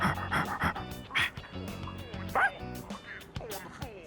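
Dog barking and panting in the video game Persona 3 Reload, a run of close, repeated yips and barks with panting between them, loud and clear with no talk over it.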